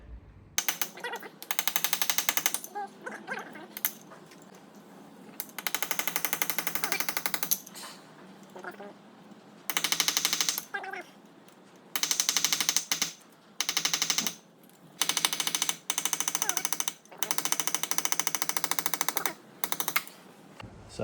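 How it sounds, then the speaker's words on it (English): A hammer drives a chisel against seized soft metal on a Mini Cooper S R53, a loud rapid rattling burst of blows repeated in several long and short runs with brief pauses between. "you can stick a hammer and chisel through it quite easy and get it to turn"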